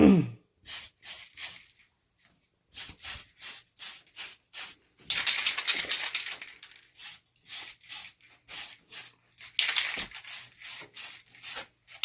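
Spray can laying down a paint coat on a 1971 Pontiac: a rapid series of short, close hissing bursts with brief gaps, plus a couple of longer sustained sprays midway and near the end.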